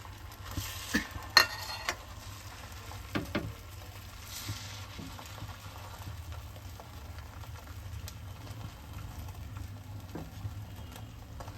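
Egg yolk spread into a well-heated pan for a fluffy omelette gives a soft, faint sizzle, with a few sharp utensil clinks and scrapes near the start.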